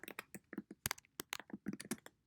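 Quick, uneven clicks of typing on a computer keyboard sound close and crisp, with a steady run of separate keystrokes and short pauses between them.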